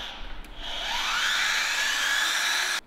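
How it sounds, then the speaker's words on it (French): Power tool with a grinder-like whine spinning up and holding a steady high-pitched buzz for a few seconds before cutting off abruptly, close and loud, during work on a wooden bull's-eye window. "Ça fait un bruit de meuleuse."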